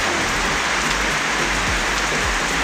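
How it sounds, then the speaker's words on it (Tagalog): Steady afternoon rain falls on surfaces outdoors, a dense, loud, continuous hiss and patter with no pauses and no voices. "ngayong hapon ay umuulan. Hindi ko akalain na ganito uulan."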